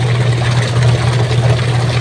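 A Panasonic washing machine spinning hard in reverse gives off a steady, loud motor hum with a rushing drum whir, continuous and close with no pauses.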